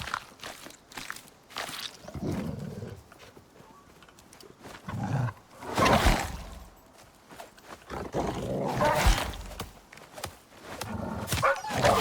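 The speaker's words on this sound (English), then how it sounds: "I hear a wolf." A wolf in the survival video game ICARUS growls and roars in repeated rough bursts over a busy game soundscape with footsteps and movement, loud and close, with no talk.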